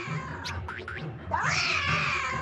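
A cartoon cat lets out a few short meows, then a longer, rising caterwaul, loud and close with no talk over it.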